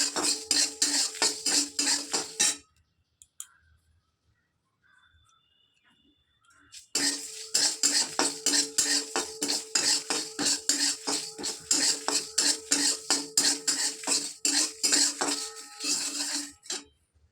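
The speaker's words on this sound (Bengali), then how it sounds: "পাঁচ ফোড়ন আর শুকনো লঙ্কা দিয়ে দিয়েছি এটাকে ভাজবো" Rapid metallic scraping and clinking of a spatula against a hot, oil-free pan as panch phoron and dried red chilies are dry-roasted, with a short quiet pause before the stirring resumes.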